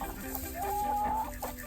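Americana rooster chickens clucking close by, one drawn-out tonal call standing out over a soft, steady farmyard background.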